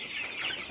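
Chickens on a poultry farm give off a steady, moderately loud flock chatter of overlapping clucks with no single call standing out.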